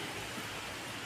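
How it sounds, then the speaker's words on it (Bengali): Rain pours outside during a storm as a dense, steady hiss of broadband noise, loud and unbroken, with no voices. "বাইরে এখন ঝড় বৃষ্টি চলছে"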